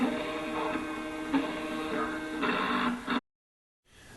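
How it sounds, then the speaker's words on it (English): A 3D printer runs with a steady mechanical whir and tonal motor hum that rises and falls in pitch as it moves, then cuts to silence briefly before resuming. "So that gives you an idea of a 3D printer in action."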